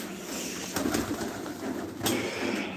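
Pigeons coo softly in a repeated low rolling pattern, close by but fairly quiet, with a couple of sharp clicks or knocks in between.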